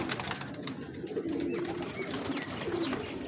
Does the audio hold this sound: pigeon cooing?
yes